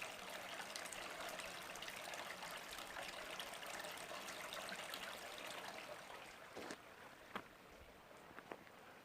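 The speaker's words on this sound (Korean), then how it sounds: "이 계곡에서 나는 물소리입니다." A mountain valley stream flows in front of a house, a steady soft rushing and trickling wash at low level with a few faint knocks near the end.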